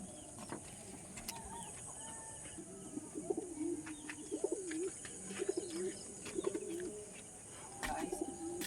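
Domestic pigeons coo repeatedly in a steady, rhythmic series of soft throaty calls, fairly close, against a constant background hum with occasional brief knocks and no talking.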